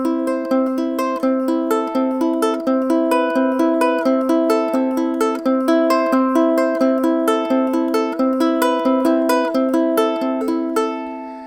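A ukulele is picked in steady, evenly repeating patterns, two sequences over each chord, with clear bright notes ringing close and loud throughout, no voices.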